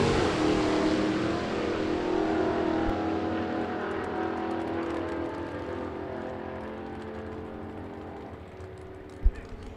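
A 1941 Willys pickup with a 357 engine drag racing at Byron Dragway roars loudly down the track, the broad engine noise steadily fading as it pulls away, with a brief sharp knock near the end and no talk.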